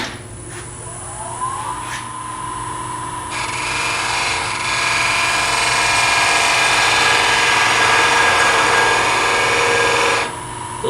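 A skew chisel parts off a wooden workpiece spinning on a lathe between centers, a steady close scraping hiss over the lathe's hum that swells and holds for several seconds before easing off at the end.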